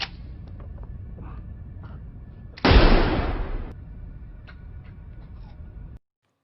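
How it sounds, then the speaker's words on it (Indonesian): A single loud gunshot bursts out in a scene from an Indonesian gangster film and trails off over about a second against a low background hum, followed by quieter ambience. "di sana Ocho menembak Bejo hingga tewas"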